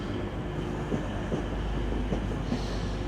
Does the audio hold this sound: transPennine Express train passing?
yes